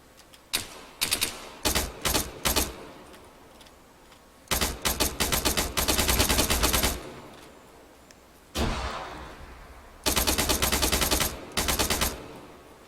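Automatic gunfire in a video game with FSM AI soldiers: several sharp, rattling volleys of rapid shots separated by short quiet gaps, loud and close, with no talk.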